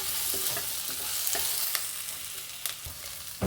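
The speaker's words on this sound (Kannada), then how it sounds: "ಗೋಲ್ಡನ್ ಫ್ರೈ ಆಗಿದೆ" Cashews frying golden in hot oil in a pan for a chana curry: a steady close sizzle with light stirring clicks and scrapes scattered throughout, no voices.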